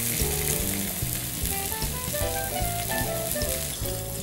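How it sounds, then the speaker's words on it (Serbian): Food frying in hot oil, a steady close crackling sizzle, with faint music underneath throughout. "Na vrućem ulju popržit ćemo salamu"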